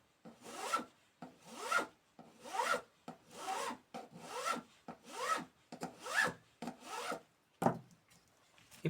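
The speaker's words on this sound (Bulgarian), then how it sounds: "Тази е много финна пила" A very fine file lightly rubbing a Gero Arms magazine cap for a Makarov pistol: about nine short, even rasping strokes in a steady rhythm, close and quiet, with no talking.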